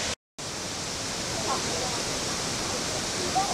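Steady, loud broadband rush of a waterfall at its source by Jingpo Lake, continuous and close, with no voices over it.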